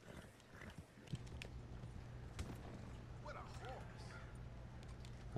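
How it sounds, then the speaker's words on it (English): Horses move through the Red Dead Online game world, their hoofbeats a steady clip-clop with faint creaks, heard at moderate level along with other game sounds and some voice. "Well, at least we got horses."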